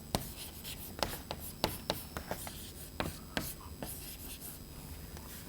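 A lecturer writes an equation by hand, producing a string of irregular scratchy strokes and taps, fairly faint and close.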